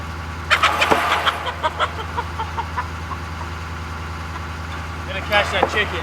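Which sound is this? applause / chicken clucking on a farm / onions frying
chicken clucking on a farm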